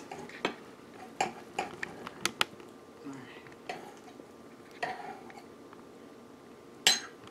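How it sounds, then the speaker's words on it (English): Knife cutting into slow-cooked corned beef, giving a series of sharp clinks and taps of the blade against a plate or board, spread through the clip with quiet pauses between them. "I'm gonna take a big slice out of here for you"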